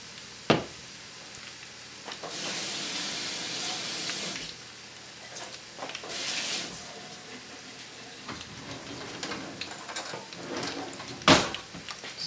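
Drops of akara bean fritter batter hit hot frying oil, setting off several loud hissing sizzle bursts with quieter bubbling and occasional clinks in between.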